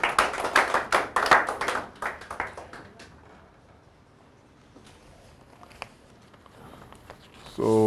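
Short round of applause at a youth skills session, a few seconds of lively clapping that quickly fades into quiet room noise with scattered taps.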